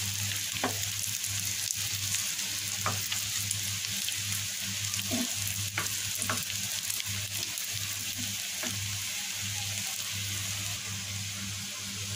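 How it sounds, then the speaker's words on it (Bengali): Fish cutlets frying in oil, browning in the pan with a steady close sizzle and crackle, marked by occasional sharper pops and spatters, with no one talking. "এই তো আমার সবগুলো ভাজা হয়ে গিয়েছে বাদামি বাদামি করে।"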